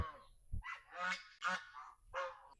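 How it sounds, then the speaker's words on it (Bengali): Domestic geese honk loudly and repeatedly nearby, a run of brassy, nasal calls following one another in quick succession. "আমার রাজহাঁসগুলো ওখানে সব আছে"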